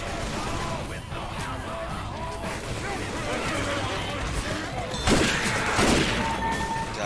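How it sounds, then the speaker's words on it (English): Fireworks burst in the Left 4 Dead 2 carnival concert finale, with scattered crackles and bangs and two louder blasts near the end, set against steady game noise. "I like these fireworks."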